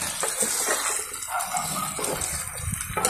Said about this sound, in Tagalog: Siyempre classic, yung pinaglagyan ng slurry, doon natin nilagay yung tubig.